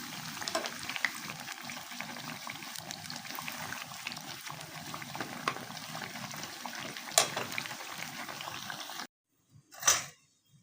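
Salted eggplant pakoras fry in hot oil, a steady dense sizzle and crackle for about nine seconds before cutting out, followed by a brief faint clatter.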